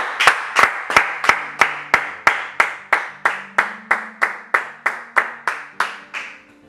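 A church congregation clapping together in a steady, regular rhythm, about twenty sharp claps over several seconds, loud and close with a faint sustained tone underneath and no talking.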